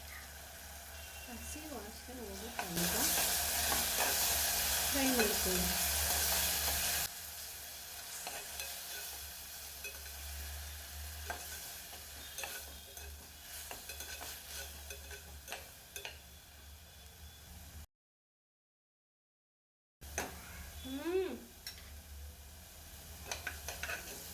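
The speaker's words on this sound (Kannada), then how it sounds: "ಅದನ್ನಾಗಿ ಚೆನ್ನಾಗಿ ಫ್ರೈ ಮಾಡ್ಕೊತಾ ಇದ್ದೀನಿ" Vegetables and masala fry in a pan in a home kitchen, a loud sizzle swelling for a few seconds and then settling into a quieter crackle with light stirring, a brief dropout, then renewed sizzling near the end.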